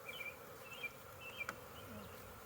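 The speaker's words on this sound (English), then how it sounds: "So you'll see a lot of bees." Honey bees buzz around an opened beehive during a hive split, a soft, steady drone with individual bees whining past up close and brief louder passes.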